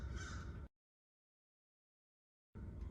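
A bird, probably a crow, caws from a housetop in a short, close burst, then falls silent before the sound returns at the very end.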